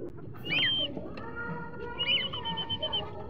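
Racing pigeon calls after a derby flight, a few soft cooing and warbling notes close by over faint background noise.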